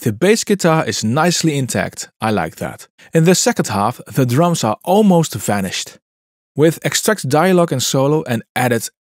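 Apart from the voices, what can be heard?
None of the usual background noises is heard.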